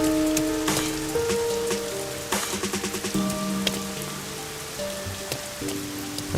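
Steady rain falling in the video game Master Detective Archives: Rain Code, a continuous patter with game music tones layered over it and no talking.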